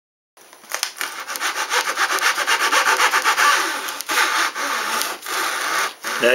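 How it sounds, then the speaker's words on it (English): Excess cured Gorilla Glue is trimmed off an MD-87 model with steady back-and-forth scraping strokes, close and fairly loud, in a quick regular rhythm with a few brief pauses. "now I'm ready to go ahead and trim off the excess Gorilla Glue"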